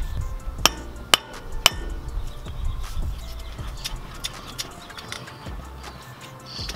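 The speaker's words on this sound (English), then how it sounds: "just hammer in the CV axle so that it breaks loose from the spline" Hammer striking a CV axle to free it from the wheel bearing spline during a front wheel bearing replacement on a Toyota Tacoma: three sharp metallic blows close together near the start, then lighter taps and clinks with faint birdsong outdoors.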